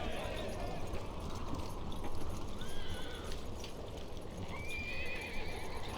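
Cavalry horses gallop in Battle for Middle Earth II, a dense continuous drumming of many hooves with neighs and whinnies rising above, steady and loud throughout.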